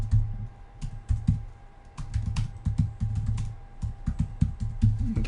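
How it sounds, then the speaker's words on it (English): Computer keyboard clicks in quick irregular bursts of typing, close and fairly loud, with short pauses between runs of keystrokes and no voices. "You can probably hear the clicking from my keyboard."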